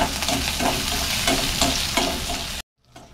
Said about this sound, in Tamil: ஒரு ஸ்பூன் உளுத்தம்பருப்பு ஒரு அஞ்சு வரமிளகா ஒரு ஆறு பல்லு பூண்டு கொஞ்சோண்டு புளி கொஞ்சம் நல்லா வதக்கிக்கலாம்